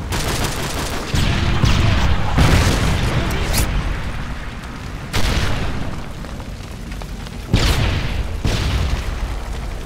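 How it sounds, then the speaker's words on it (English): In Modern Warfare 3 multiplayer, a Predator missile strike lands with heavy, dense booms amid continuous rattling gunfire, and fresh blasts punch through the din several times. "Friendly Predator missile inbound."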